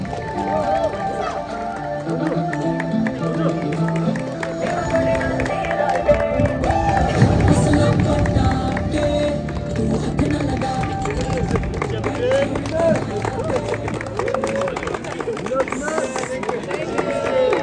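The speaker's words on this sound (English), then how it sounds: "Please give a huge round of applause to them." A sports final crowd claps and cheers for the runner-up team, a sustained wash of applause and whoops. An announcer's amplified voice runs over the top at times.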